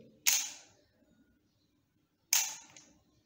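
Canon EOS 60D DSLR fires for a two-second long exposure, giving a sharp shutter snap, about two seconds of quiet, then a second closing snap, close and crisp in a silent room.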